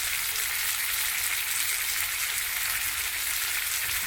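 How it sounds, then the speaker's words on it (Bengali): Turmeric, chili and cumin powders frying in a pan for a fish curry, giving a steady, even sizzle and hiss that runs unbroken at moderate loudness with no other sounds. "মশলাটাকে ভালো করে ভেজে নেব।"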